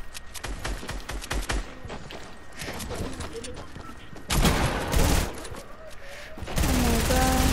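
Rapid gunfire bursts crackle in a squad battle-royale shooter game, with dense automatic volleys and louder close shots, while players talk over the action.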